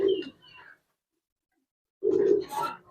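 Giribaz and coloured pigeons in a loft, two short bursts of soft throaty cooing close by, separated by a second of near silence.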